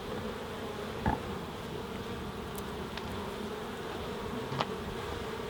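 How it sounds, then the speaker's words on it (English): Wasp buzzing close by at an open beehive during a honey and queen cell check, a steady insect drone with a couple of brief louder passes. "There's a wasp there."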